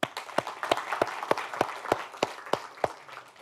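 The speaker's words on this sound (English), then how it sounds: "so a round of applause for our team" A small class claps for its teaching team in a sparse, uneven round of applause, with a few distinct hand claps standing out at a steady rhythm over a faint, thin bed of clapping.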